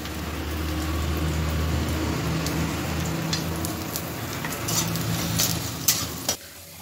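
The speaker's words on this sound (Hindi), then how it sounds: "तेल गर्म हो चुका है, तेल कम से कम 2 चम्मच बड़े चम्मच में, और देखिए लहसुन डालिए।" Steady sizzling of garlic frying in hot oil, close and continuous, with occasional stirring clinks and scrapes near the end.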